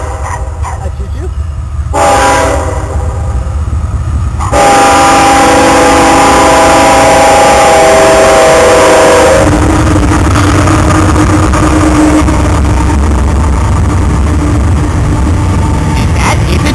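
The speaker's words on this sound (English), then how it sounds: "Here comes the choo-choo." A train rolls past close by, its horn sounding with steady tonal blasts over a loud rumble of wheels and cars; voices are heard nearby.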